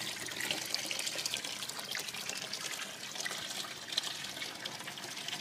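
Water streams steadily into an aquaponics grow bed that is filling through a bell siphon cycle, a soft continuous trickle and splash heard close with no talking.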